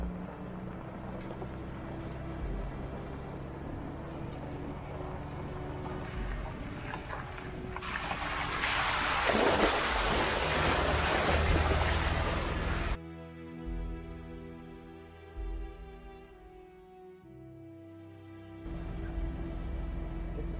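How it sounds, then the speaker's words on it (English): A vehicle towing a trailer rolls slowly into a water hole on an off-road pass. Water rushes and splashes loudly for several seconds over a steady engine drone, and the drone carries on once the splashing fades. "As you enter the water hole or the Durfee, as you enter it, it's right at the beginning, so just go slow."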